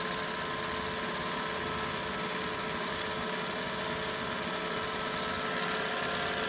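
A vintage Sioux valve grinder's electric motor, just repaired, runs with a steady, loud, unbroken hum and whir at constant speed throughout.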